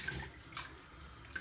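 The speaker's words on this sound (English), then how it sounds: "Do a quick rinse." A tap runs to rinse a Tatara Muramasa safety razor during a wet shave. A close, steady hiss of water flows over a sink for a little over a second, with faint splashes and no talk.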